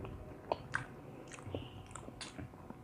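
Someone eats durian up close, with soft, wet chewing and a few sharper biting clicks spread through a quiet stretch without talking.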